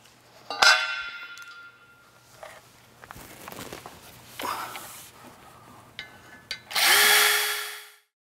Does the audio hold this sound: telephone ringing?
no